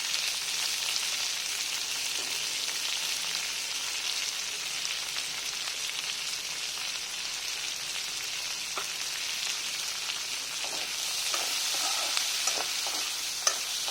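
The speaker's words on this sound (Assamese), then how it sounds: "সেই একেখিনি তেলতে মই পিঁয়াজ ভাজি আছোঁ" Onions fry in chicken oil with a steady, even sizzle that runs throughout, and faint stirring clicks come through near the end. No one speaks.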